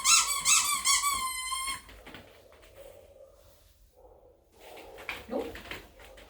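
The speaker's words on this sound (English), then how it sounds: "It has a squeaky." A squeaky dog toy squeezed during a dog training session, a loud run of several rapid high squeaks at the start, then quieter rustling and soft squeaks.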